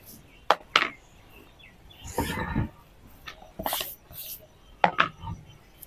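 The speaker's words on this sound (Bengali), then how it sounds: "এবার টমেটোগুলো সব কেটে নিতে হবে।" Tomatoes being cut with a knife in a home kitchen, a few sharp close taps of the blade on a board spread among brief rustling handling sounds, with no voices.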